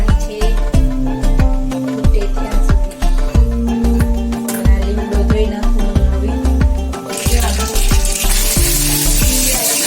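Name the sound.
chutney being tempered in hot oil, sizzling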